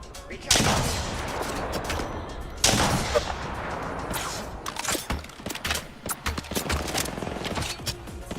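Heavy gunfire in the shooter video game Highguard, with loud sudden shots and rapid bursts layered with explosions and dense battle noise that continue throughout.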